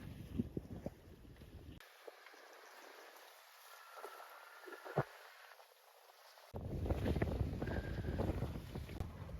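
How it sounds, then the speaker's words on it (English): Wind rushes over a sailboat at sea making over 6 knots at night, with loud gusty buffeting at the start, a quieter lull with faint creaks in the middle, and a strong steady roar returning at the end. "A bit more wind now. We're doing over 6 knots."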